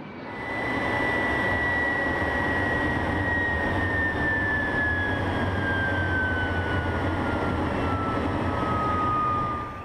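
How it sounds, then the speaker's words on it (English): A steady, loud aircraft roar from a de Havilland DH-98 Mosquito flying with de Havilland Vampire and Venom jets fills the whole stretch, a high whine slowly dropping in pitch as they pass, no voices. "The majestic DH-98 Mosquito took to the air to be joined by two de Havilland DH-115 Vampire jet trainers"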